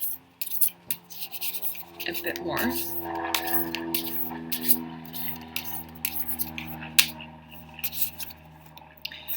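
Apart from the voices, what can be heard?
shuffling tarot cards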